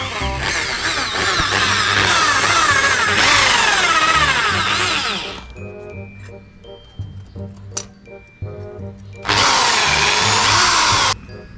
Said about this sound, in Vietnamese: mua cái bọc rồi anh em tôi bắt đầu khoan lỗ luôn